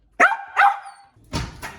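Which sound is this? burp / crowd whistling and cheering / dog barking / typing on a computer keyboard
dog barking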